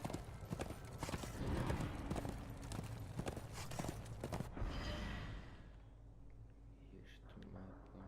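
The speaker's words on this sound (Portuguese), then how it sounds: "Agora já posso andar no cavalo." A horse's hooves clip-clop at a brisk, steady rhythm as it is ridden in the video game Darksiders II, loud and close, then fade into quieter ambience with a soft breathy sound near the end.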